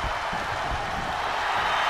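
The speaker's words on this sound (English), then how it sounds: "The sound of this crowd is deafening, and he's asking for more." A packed professional wrestling crowd roars and cheers without pause, a dense, loud wall of voices filling the arena.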